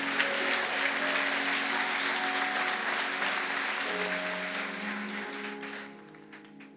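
Church congregation applauding during a service, a sustained wash of clapping from a crowd with a held musical tone beneath, gradually thinning and fading out near the end.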